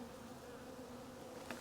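Honeybees hum steadily around the lid of a freshly opened hive, a faint continuous buzzing drone with a slight rise near the end as one flies close.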